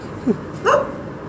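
A single dog gives a couple of short barks or yips, fairly close, over steady background noise.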